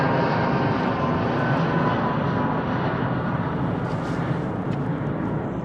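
A Boeing 777 airliner departs overhead from London Heathrow, a loud, sustained jet engine roar close by that fills the air and slowly eases.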